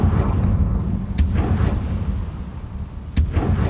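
A Confringo blasting spell detonates in Hogwarts Legacy, heavy rumbling booms with two sharp cracking impacts about two seconds apart over a continuous low roar.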